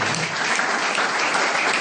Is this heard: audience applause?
yes